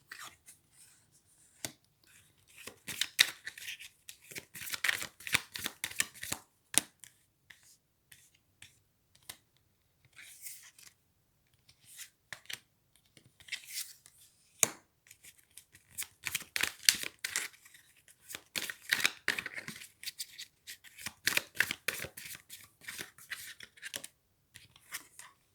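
Tarot cards shuffled for a love reading, giving bursts of crisp riffling and slapping clicks in several rounds with short pauses between, close and fairly quiet, with no talk.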